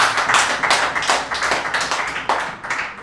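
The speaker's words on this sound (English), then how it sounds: "Give yourself a clap." Applause for youth competition participants at a World Youth Skills Day event, a small group clapping steadily and close by for about three seconds, with no talking over it.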